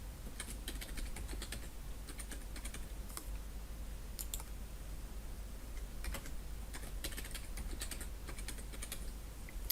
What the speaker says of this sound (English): obviously we're going to go ahead and type in that password.